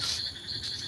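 Crickets chirp in a continuous, even trill at night, a brief steady burst with no other sounds.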